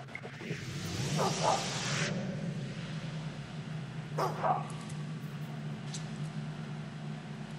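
A dog in the video game Fable 2 gives a couple of short barks and yips over a low, steady ambient game hum, the barks moderately close and brief, with no voices.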